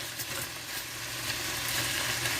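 Peppers and onions sizzle in a hot pizza skillet, a steady, close hiss of frying that holds evenly throughout with no voices.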